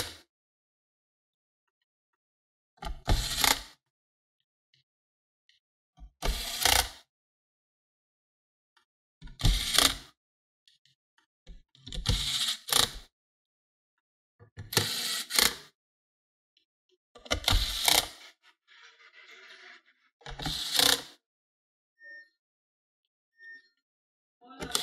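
Screws being driven back into an HP 240 G5 laptop during reassembly: seven short, sharp bursts spaced a few seconds apart, close and clear, with silence in between.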